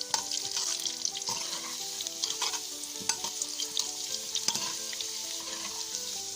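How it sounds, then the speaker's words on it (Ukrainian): Carrots frying in about 150 ml of oil in a cauldron over a campfire, a loud, close, steady sizzle with frequent sharp pops and crackles spread throughout. "Піджарюємо морку до рум'яного кольору"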